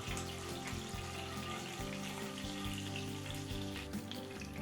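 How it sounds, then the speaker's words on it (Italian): Anchovies sizzle and spatter in hot oil in a pan while orecchiette with broccoli is being made, a steady close crackling hiss with irregular pops throughout and no talking. "le alici fanno così, sono odiose, schizzano da morire."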